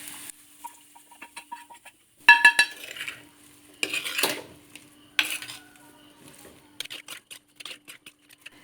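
Mustard seed tempering is tipped from a small pan into cooked papaya, giving scattered metallic clinks and taps of a spoon against vessels, a few louder clattering bursts between quiet gaps.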